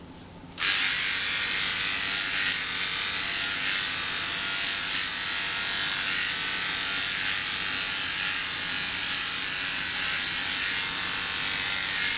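Electric clippers buzz steadily at close range while trimming the coat of a poodle retriever, switching on after a brief quiet start and running continuously with slight shifts as they move through the fur.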